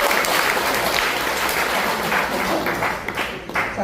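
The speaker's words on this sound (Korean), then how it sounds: "박수 잠깐 한번 하죠" Audience at an indoor seminar giving a short burst of clapping, a dense, even wash of hands that stays loud and thins slightly toward the end.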